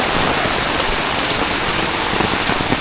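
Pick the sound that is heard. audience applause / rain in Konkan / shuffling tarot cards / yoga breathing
rain in Konkan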